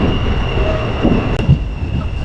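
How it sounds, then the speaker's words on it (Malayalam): A train pulls out of Melattur station on the electrified Nilambur line, with a loud, steady rumble of wheels and carriages, sustained tonal whine and brief squeals, and no voices. "അങ്ങനെ ഇപ്പോൾ മേലത്തൂരിന്ന് ട്രെയിൻ എടുത്തു."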